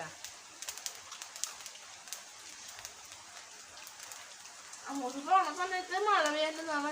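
Soft rain patters steadily in the background, fairly faint; partway through, a person begins speaking over it.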